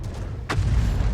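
A single heavy tank cannon shot booms out in World of Tanks, a sharp crack followed by a low rumbling tail over steady engine and battle noise.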